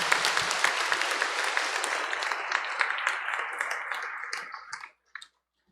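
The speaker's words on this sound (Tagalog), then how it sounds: "ato silang tagaan ug makusog nga palakpak" A church congregation gives loud applause for newly ordained deacons at a diaconate ordination. The clapping is sustained and full, then thins out and dies away to silence near the end.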